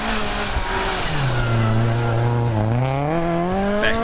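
A rally car blasts through a gravel stage, its engine loud and close, dipping in pitch and then climbing steadily as it accelerates away, with no voices over it.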